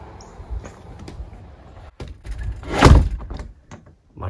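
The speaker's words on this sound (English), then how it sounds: "now it's time to close the door." A double door with fresh center weather stripping swings shut, giving a single solid thunk near the end of a short stretch of light handling noise, with no talking.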